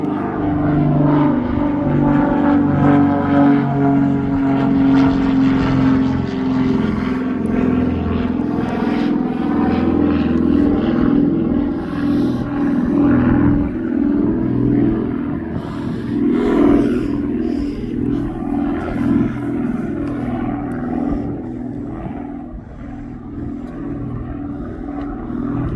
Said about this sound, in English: GP OLW, the UK's National Police Service aircraft.